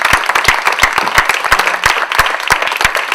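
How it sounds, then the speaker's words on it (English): Audience applause for the speakers after a documentary dialogue event, a small group clapping close by with distinct, uneven individual claps in quick succession. "I'd like to, first of all, have a big round of applause for all the speakers."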